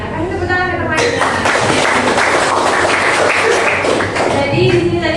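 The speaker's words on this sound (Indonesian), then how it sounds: "kasih tepuk tangan ke temannya" Classroom of students clapping for a classmate, a dense burst of hand claps starting after a second and running steadily to the end, with a teacher's voice audible at the start and under the applause.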